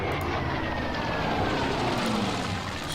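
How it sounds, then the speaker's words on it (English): An aircraft in the Order of Battle naval strategy game drones on as a steady, moderately loud engine roar with a faint whine sweeping slowly across, unbroken for the whole stretch and with no talking. "We'll have the aircraft coming in"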